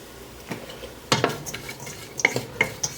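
A utensil stirs softening onions seasoned with salt and pepper in a soup pot, giving a few scraping clinks and soft sizzling strokes up close, with no talk.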